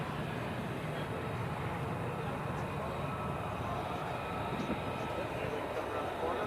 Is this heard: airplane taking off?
yes